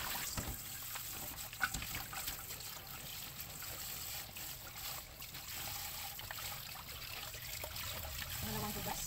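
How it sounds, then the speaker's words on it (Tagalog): Running water while washing vegetables for sinigang (tomatoes, long chilies, onion, okra, string beans), a steady close trickle and splash continuing throughout with faint handling noises. "So, hugasan na natin yung ating mga lamas, tomatoes, siling haba, onion, na okra, at ang ating sitaw."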